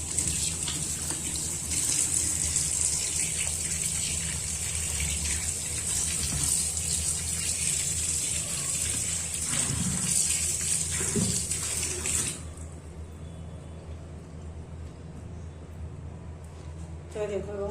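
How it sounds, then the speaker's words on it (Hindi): Tap water runs steadily and loudly while a green chilli is rinsed under it at a kitchen sink. The flow stops abruptly near the end, leaving a quieter room with faint background sounds. "अब इसको अच्छे से वॉश कर लेती हूँ पहले।"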